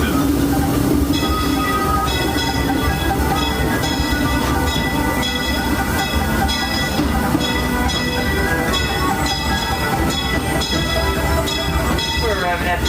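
Disneyland Railroad passenger train running along its track toward Tomorrowland Station in the park, a steady continuous rumble with clicking rail rhythm filling the whole stretch, with a faint public-address voice over the running noise.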